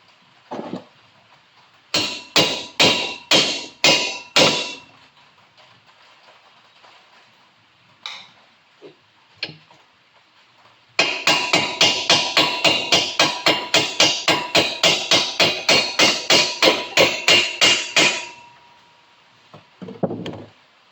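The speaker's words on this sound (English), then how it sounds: "I actually use a socket to put it back in." A hammer drives a cap into place on a squarebody truck part through a socket, starting with a short series of sharp metallic blows, then after a pause a long, fast, steady run of close, ringing strikes.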